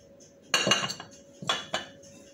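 Almonds and dates tipped into a bowl for oat and nut cookies, a few sharp clinks and rattles in two short bursts with quiet between them, no talking.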